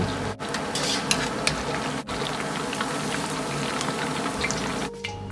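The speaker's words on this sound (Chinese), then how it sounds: "炸至鸡肉黄亮，香菇稍微发干，然后倒出控油" Chicken pieces and shiitake mushrooms deep-frying in hot oil in a wok: a steady, dense bubbling sizzle throughout, briefly broken by a couple of short cuts, with no voices.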